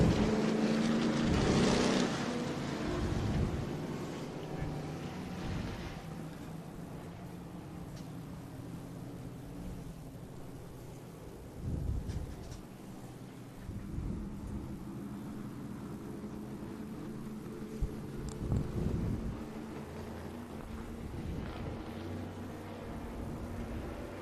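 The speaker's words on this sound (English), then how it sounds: "as these modifieds make their way past that start-finish line" A pack of modified race cars roars around Tucson Speedway in a continuous loud engine din, with several closer cars swelling past partway through.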